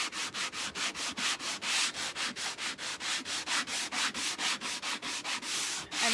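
Hand sanding along the grain of a wooden pallet board makes quick, regular rasping strokes, roughly four to five per second, close and steady throughout.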